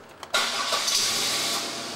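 A car engine cranks briefly, catches with a burst, then settles into a steady idle.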